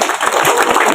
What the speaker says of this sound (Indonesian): Tepuk tangan dulu Pak Menteri.